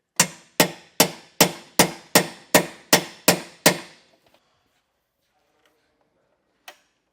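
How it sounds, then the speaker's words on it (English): Socket hammered over a grease zerk on a leaf spring suspension install: ten evenly spaced sharp metallic strikes in a quick steady rhythm, close and loud, then quiet with one last lone tap. "we're gonna have to beat this in until those teeth bite into that opening"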